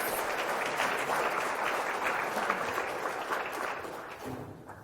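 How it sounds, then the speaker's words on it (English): Audience applause at an industry talk on breaking into 3D art, a steady broadband patter of many hands clapping that holds for several seconds and then begins to thin and fade toward the end. "Round of applause, folks."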